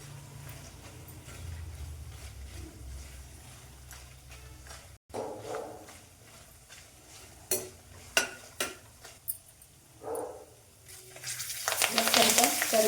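Ingredients for crispy poha chivda drop into hot oil, giving a steady low sizzle broken by scattered clinks and sharp crackles of the pan and spoon, swelling into a loud, bright hiss of frying near the end.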